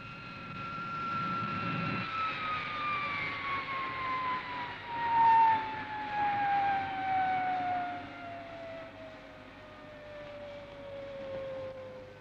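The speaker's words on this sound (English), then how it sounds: "I'm bringing Supercar into land now." The fictional Supercar aircraft comes in to land with a whining, siren-like engine tone that glides steadily downward in pitch, sustained and fairly loud for the whole stretch with no voices.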